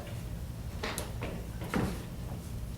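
Handle of a locked door rattled and tugged, a few short knocking clunks and latch scrapes spaced across a couple of seconds, close by over a low room hum.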